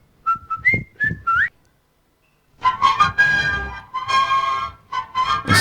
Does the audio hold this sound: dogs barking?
no